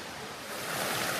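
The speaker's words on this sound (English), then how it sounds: "Another look at that second waterfall." A winter waterfall in Pennsylvania gives off a steady broadband rush, moderately loud and swelling slightly toward the end, with no voices.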